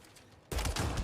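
Gunfire aimed at a mine in the video game Mass Effect Andromeda; after a quiet half second a loud, dense burst of shots erupts and continues to the end, with no talk.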